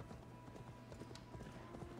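In the video game Assassin's Creed Valhalla, a horse's hooves clip-clop in a quick, even rhythm over a low background hum, close and moderately loud, with no one speaking.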